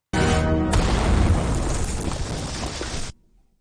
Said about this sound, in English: bomb blast.